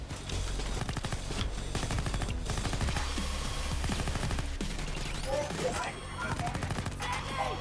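Rapid gunfire from the Payday 2 video game fills the whole stretch in dense, loud bursts of overlapping shots, with game noise layered around them and a voice talking now and then underneath.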